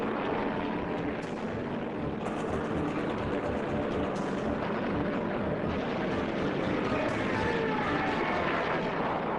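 Bomber aircraft flying over Pearl Harbor, a steady, broad engine drone that holds throughout at an even loudness with no talk.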